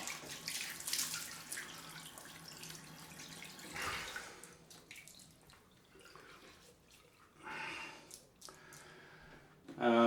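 Tap water runs into a bathroom sink for a cold rinse after a wet shave with a Merkur 34C razor, a steady splashing flow with a few louder surges and brief pauses near the end.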